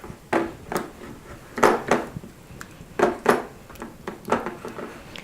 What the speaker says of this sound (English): You're just going to mix it until it's all uniform in texture